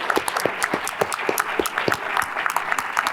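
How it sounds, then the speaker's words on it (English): An audience at a breakfast event applauds, with many hands clapping in a brisk, continuous patter and individual sharp claps popping out across the room. "You can clap for yourselves too"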